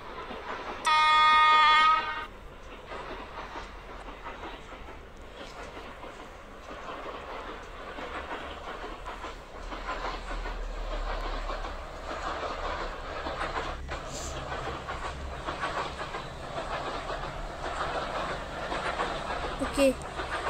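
Train running on rails in an Indian train crossing 3D video game, a steady rumbling roll that persists through the clip, opened by a short loud horn blast near the start.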